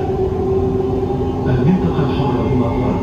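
Dubai Metro Green Line train running toward Creek, a steady loud interior rumble and hum with a faint tonal whine, while a recorded announcement voice speaks over it.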